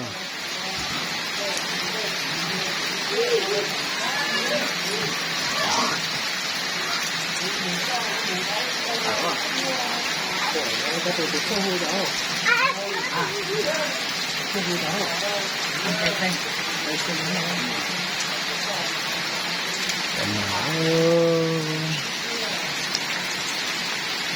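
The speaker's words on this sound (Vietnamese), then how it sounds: "quê mình mưa hôm nay mưa cả ngày luôn nhá" Heavy rain pours down all day in a rural village, a dense, steady hiss of drops hitting surfaces that persists throughout while someone talks over it.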